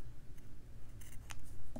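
Scissors trimming a small piece of fabric for a stitched barn owl beak, a few faint quick snips close by in a quiet room with no talking.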